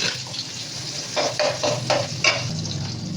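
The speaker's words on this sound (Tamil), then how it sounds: "இந்த எண்ணெயில் வெங்காயம் போட்டுக்கலாம்." Small onions dropped into hot oil, a close sizzle with a few rhythmic bursts of stirring or tossing in the pan.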